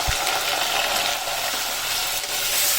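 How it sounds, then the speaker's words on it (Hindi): Half a kilo of chicken fries in hot oil with salt and turmeric, giving a steady, loud broadband sizzle that continues without a break. "तो ये डाल देते हैं हम गरम ऑयल के अंदर।"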